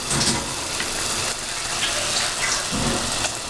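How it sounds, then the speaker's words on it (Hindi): Water poured into a pot of green chicken karahi, a steady close gushing splash that runs continuously from start to end. "बस ये पानी डाल के जो है ना हम गलने के लिए छोड़ देंगे।"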